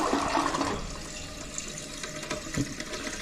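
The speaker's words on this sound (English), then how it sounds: "So now let's give it an overall flush check." A toilet just repaired for constant running is flushed as a test. A loud rush of draining water at the start settles into a quieter gurgle and refill hiss.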